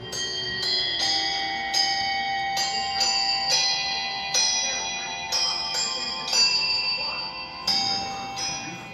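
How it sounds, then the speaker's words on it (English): Several Swiss-style alpine bells ring one after another in Sugarcreek, Ohio, in an irregular, overlapping sequence, clear metallic tones with long ringing decays, fairly close and loud. "hear the alpine bells"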